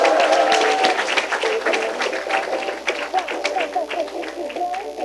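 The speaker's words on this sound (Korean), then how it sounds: "다시 한번 박수 한번 주세요." A concert audience at a happiness lecture applauds students, a burst of brisk clapping from many hands mixed with voices and crowd murmur, loud at first and then thinning and fading.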